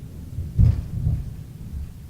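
Thunder during a storm outside, a deep low rumble that swells to a loud peak and rolls on with a second surge, heard indoors with no talk over it.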